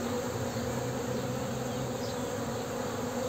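Honeybees balled around a queen, beginning to leave her, give a close, dense, steady buzzing hum that runs unbroken, with no voices.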